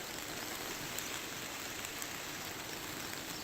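Heavy cloudburst-like rain in Lonar taluka, Buldhana, with rivers flooding: a dense, steady hiss of downpour that stays even throughout with no voices.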